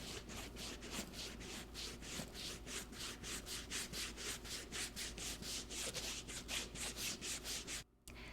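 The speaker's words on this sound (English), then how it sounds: "you can use the rubber side of a nubuck brush to wipe away any salt or grime." Rubber side of a nubuck brush rubbed briskly back and forth over a leather accessory, a steady run of close, dry scrubbing strokes in quick rhythm, with a brief pause near the end.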